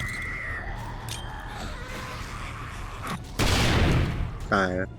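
A muffled high-explosive blast in the game 7 Days To Die bursts in with a loud roaring rush of noise, followed by a short clanging tone, over a low background hum.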